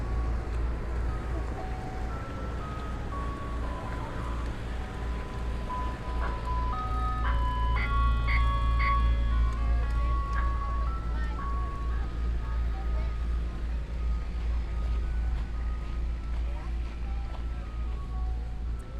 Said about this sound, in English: that ice cream truck playing It's a Small World